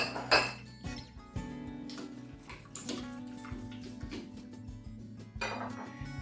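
Sugar, salt and cumin mixed in a bowl for onion bhaji pakora batter, with a spoon clinking and scraping against the bowl in a steady run of light knocks, close and fairly quiet, no talking.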